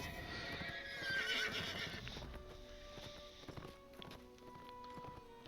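A horse in a video game gives a loud whinny, followed by rhythmic clip-clop hoofsteps that continue at a moderate level.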